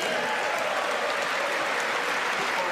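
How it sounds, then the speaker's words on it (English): Steady applause rolls through the House chamber at the 2019 State of the Union, many hands clapping together in a continuous wash at constant loudness. "Nancy's actually standing up for this, clapping"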